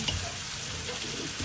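Chicken frying in a pan, a dense close sizzle with stirring scrapes, steady and fairly loud for a brief moment.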